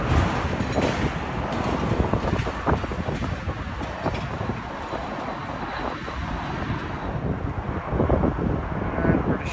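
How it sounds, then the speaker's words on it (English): A British Airways Airbus A320 arriving from Geneva roars past at Heathrow with a broad, rumbling jet noise and heavy wind buffeting on the microphone. The noise stays steady and fairly loud throughout. "British Airways A320 from Geneva."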